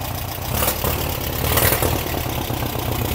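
A car engine with an exhaust leak runs close by, a steady rough rumble with a hissy, sputtering edge, and no talking.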